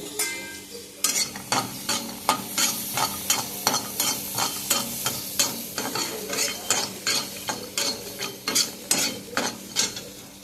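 Coconut frying in a pan for a Tulu-style ivy gourd gravy, stirred with a utensil in a fast, regular rhythm of sharp scraping knocks over a constant sizzle, loud and close, no voices.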